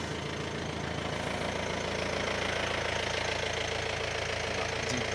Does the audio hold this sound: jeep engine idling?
yes